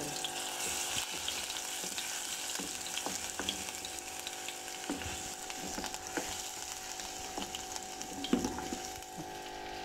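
Garlic and cumin sizzle and crackle in hot oil in a home kitchen while fish masala is being prepared, with a steady close frying hiss, scattered pops and occasional stirring scrapes throughout.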